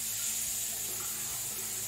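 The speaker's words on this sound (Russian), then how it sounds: "Струя бьет примерно посередине." Water streams steadily from a Grohe Cosmopolitan mixer tap into a bathroom sink, a soft continuous hiss that stays even throughout, alone and fairly quiet.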